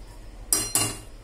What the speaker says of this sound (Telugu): టీది పెడుతున్నాను గిన్నె.